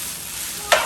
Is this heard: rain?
no